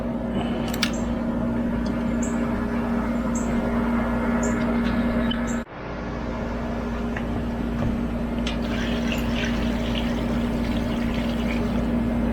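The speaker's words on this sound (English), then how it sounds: "let's get some more water in it." Water pours into a large Low Country boil pot outdoors in a steady, continuous gush over a constant low hum, with a brief interruption midway before the pouring carries on.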